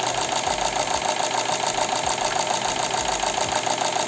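A Chevrolet Cruze engine idles with its number three ignition coil removed, misfiring as a steady mechanical hum. A faint rhythmic knock-like pulse sits under the idle, heard close up and with no one speaking.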